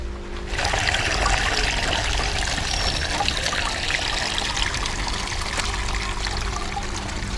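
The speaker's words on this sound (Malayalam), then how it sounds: "നമ്മളതിലെ വെള്ളം ഓവർഫ്ലോ ആണത്" Water overflows from a backyard fish pond stocked with anabas, making a steady close rushing, splashing pour that starts abruptly and keeps going without a break.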